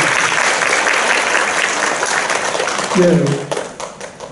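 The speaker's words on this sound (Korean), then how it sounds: "다시 한번 박수로 감사드리겠습니다" Steady audience applause follows a lecture on orthodontic force at a dental seminar, a dense even wash of clapping that holds loud for about three seconds, then thins and fades, with a voice briefly speaking over it near the end.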